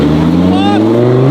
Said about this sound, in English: Pretty sure you hit the rev limiter there.